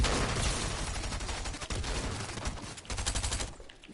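Continuous loud video-game gunfire, dense overlapping bursts and rapid shots filling about four seconds before easing off slightly at the end.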